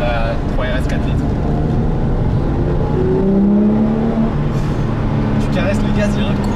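A Porsche 997 GT3 RS 4.0, a naturally aspirated 4.0-litre 911, accelerates on the road. Its engine note climbs steadily in pitch over a constant cabin rumble, with a voice faintly present.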